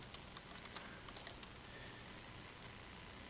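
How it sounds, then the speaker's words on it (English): Light, quick keystrokes tap on a computer keyboard in a short burst, faint under a steady background hiss, with no talking. "I can just start typing."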